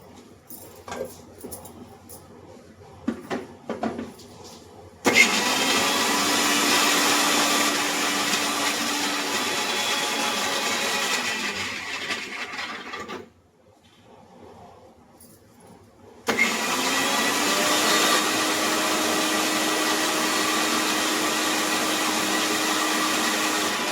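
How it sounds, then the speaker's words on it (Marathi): A mixer grinder blending cashews with a little water into paste whirs loudly and steadily for several seconds, stops briefly, then starts up again with the same high motor drone. "एकीकडे आपण मिक्सरला पेस्ट करून घेऊ"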